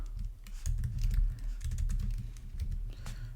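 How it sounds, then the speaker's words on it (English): Rapid, uneven keystrokes on a computer keyboard, close and clear, clattering in quick bursts over a low steady hum, with brief pauses between runs of typing. "I'm gonna just type, this is a paragraph"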